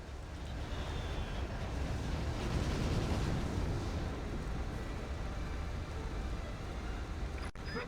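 Battleships and gunships firing at will in the Battalion Wars II video game, a dense, continuous roar of heavy gunfire and explosions rumbling loudly throughout with no clear gaps.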